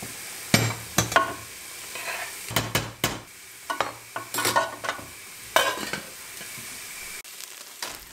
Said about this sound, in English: There are many different methods cooking the rice, but sauteing it always gives some nice more flavor